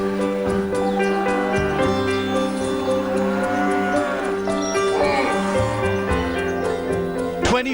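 Cattle at a large government cow shelter in Rajasthan moo in long, drawn-out calls, several overlapping, loud and near over a noisy background, with some voices mixed in.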